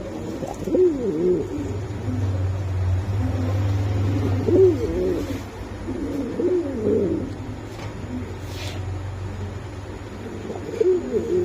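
Spanish Pouter, Budapest, Beauty Homer and racer pigeons coo repeatedly at close range in rolling, throaty phrases, with a low engine-like hum and faint background noise underneath.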